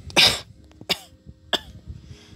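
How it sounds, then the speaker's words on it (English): Three harsh coughs, one loud burst followed by two shorter ones, close and alone against quiet background. "as he would start coughing again"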